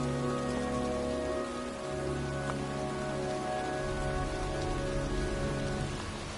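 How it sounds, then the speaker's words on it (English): Steady rain falling outdoors in the video game Heavy Rain, a continuous close hiss of drops on surfaces with a low sustained background hum from the game soundtrack. "It's cold. It's raining. I'm standing outside getting soaked."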